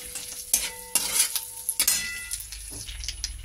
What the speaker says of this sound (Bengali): এটা একটু লঙ্কাটা ভাজা হোক।